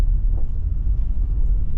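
A car that just had a wheel speed sensor fault repaired drives up a steep driveway, a steady low engine and road rumble with wind buffeting, close and continuous throughout.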